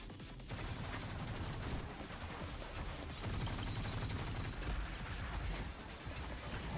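Dense fusillade of gunfire with bursts of automatic fire and explosions from a Blue Archive battle scene, continuous and loud throughout with no talk.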